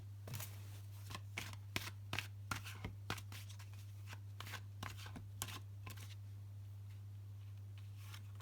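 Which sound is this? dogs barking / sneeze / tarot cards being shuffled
tarot cards being shuffled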